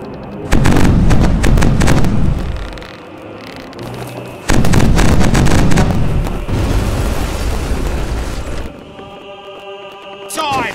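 Ship cannons firing a broadside in Age of Pirates 2: City of Abandoned Ships, two loud bursts of rapid overlapping booms and crackling blasts, each rolling into a fading rumble, with a short gap between volleys.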